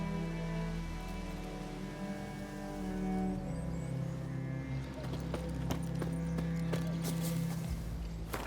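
Hoofbeats of the horse Roach in The Witcher 3, a steady clip-clop rhythm running under rain and a sustained musical score, moderately close throughout with no voices.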